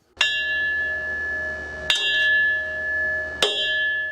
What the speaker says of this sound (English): begin the blessing ceremony by knocking at the drum and the bell